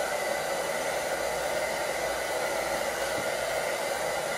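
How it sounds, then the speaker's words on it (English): A hair dryer blows steadily at close range, a constant airy whir with a low motor hum that holds evenly throughout. "I'm gonna have her take the blow dryer and blow dry a lot of it back."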